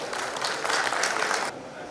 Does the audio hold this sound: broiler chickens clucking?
no